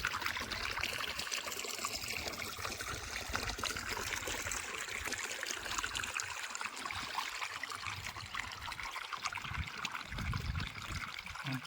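Irrigation water flows steadily into a cotton field in a Gujarati village, a continuous broadband trickling, streaming rush that stays at a fairly even level throughout, heard up close with no talk.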